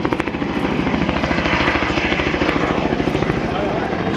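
A helicopter flies close by, its rotor thumping in a fast, steady pulse over a loud engine roar that holds for the whole stretch.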